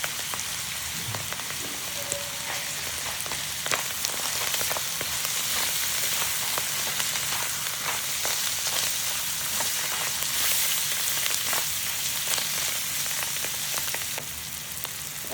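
Egg and fried rice stir-fried in a hot pan, a steady dense crackling sizzle with scattered scrapes and stirring clicks running evenly throughout, close and fairly loud with no talking.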